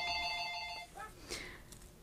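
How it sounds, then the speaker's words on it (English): A telephone ringing in a workshop during an awl handle repair, its electronic trill sounding in a short burst before cutting off, followed by faint background sounds. "Sorry about the phone."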